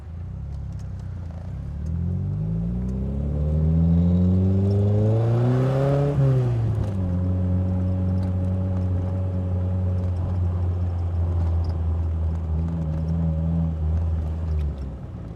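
Triumph Spitfire sports car engine under way, revving up through a gear then settling into a steady drone, with a slight bogging from a fuel problem; loud and close with no talk.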